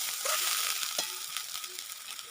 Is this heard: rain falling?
no